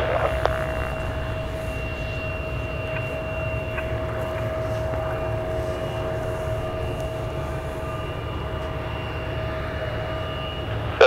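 Alaska Airlines Embraer E175 jet in Horizon retro livery taking off from Paine Field, a steady engine roar with a sustained whine and low rumble heard from a distance, unchanging throughout.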